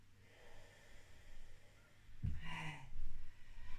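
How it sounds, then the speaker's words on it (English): During a yoga session for tight hips, a deep breath is drawn in through the nose with a short, snort-like rush, followed by a slower, softer breath, close and fairly quiet. "Taking one more deep breath here"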